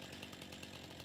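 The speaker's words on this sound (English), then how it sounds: "I've got the chainsaw ready" A chainsaw running in the farming video game Farming Simulator 19: a continuous, buzzing engine drone with a fast pulsing rhythm, steady and unbroken for about a second.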